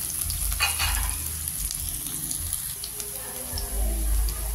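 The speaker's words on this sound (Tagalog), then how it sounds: "Ilagay na natin ang ating pinagsama-sama na natin ang sibuyas, bawang at saka ang luya hanggang sa maluto siya." Chopped onion, garlic and ginger sputter in hot cooking oil with a loud, crackling sizzle, low rumbling bursts and occasional stirring scrapes, close and with no talk.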